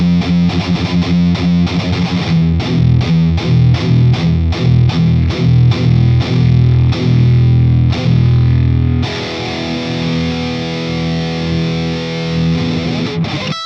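Electric guitar played through an Engl Fireball 100 amplifier into an E412 Pro cabinet, heavily distorted, with a run of rapid palm-muted chugs and chords followed by a long sustained ringing chord, loud and alone.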